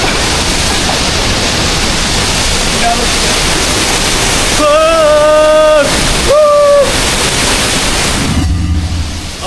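Constant loud roar of rushing water from Tirto Galuh waterfall in Blitar, Indonesia, heard up close, with a brief tonal whine midway over the steady wash.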